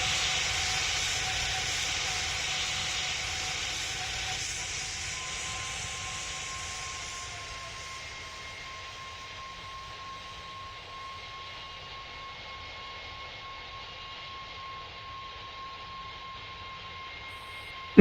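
An airplane in Pilot Training Flight Simulator spools up for takeoff with a broad jet hiss and whine that fades gradually into a thin, steady tone, fairly loud at first, then quieter.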